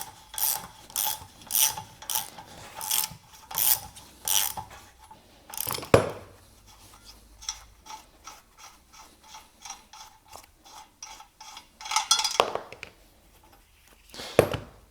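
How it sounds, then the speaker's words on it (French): A ratchet wrench with a socket on its square drive loosens two nuts on a Peugeot 206 RC: several bursts of rapid, close metallic clicking, then quieter scattered clicks and two more sharp bursts near the end, with no talking. "je mets la douille et je mets juste le début du carré en fait du cliquet et je desserre les 2"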